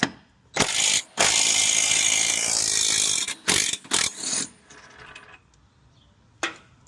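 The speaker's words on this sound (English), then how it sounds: "So we'll get these bolts out of here, 18, and then we're going to get the 21 out of the rear." Impact wrench or ratchet bursts loosening 18 mm and 21 mm bolts on a 2026 Dodge Ram 1500 during a side step install, several loud whirring bursts with short pauses between, close by and with no talk.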